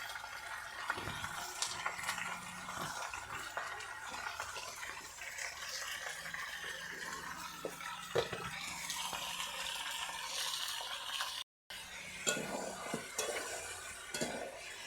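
Washed, drained chicken is stirred and fried in a pan for chicken biryani: a quiet, low sizzle with scattered scrapes and light clinks of a utensil against the pan.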